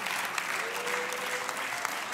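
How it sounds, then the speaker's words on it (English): Hand clapping from a church congregation during a Sunday service, steady dense applause with a faint sustained tone beneath, moderately quiet and continuous. "Give a hand clap and a praise to the King of Kings and to the Lord of Lords."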